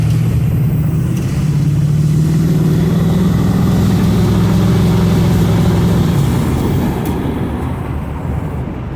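Steady low rumble of an idling truck engine, close and loud, with a droning tone that fades slightly toward the end; no voices.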